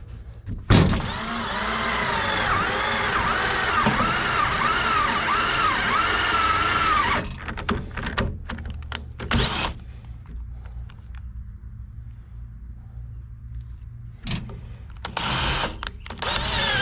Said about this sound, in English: I have a spot where I can drill.